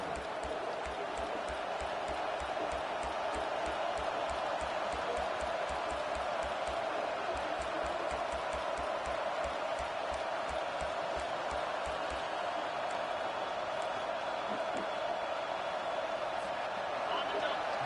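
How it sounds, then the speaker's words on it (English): A packed stadium crowd at a college football game roars steadily and loudly, cheering on the defense on third down against Missouri's offense, a dense, continuous wall of noise with a faint rhythmic thumping underneath. "Decibels rising as the crowd gets behind this defense on third down"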